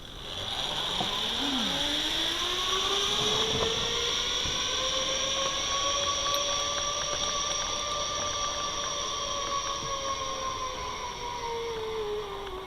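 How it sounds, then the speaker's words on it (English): Zip line trolley rolling fast along a steel cable between platforms, a continuous loud whirring and whining hum with rising and falling tones, close and steady for the whole stretch, no talking. "Flying to another platform."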